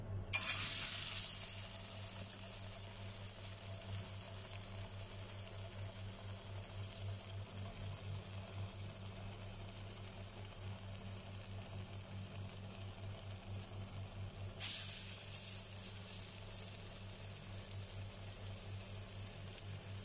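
Ta'meya, Egyptian falafel, fries in hot oil with a low steady sizzle and hiss, faint and even, with a brief louder splash of bubbling at the start and again midway, no talking.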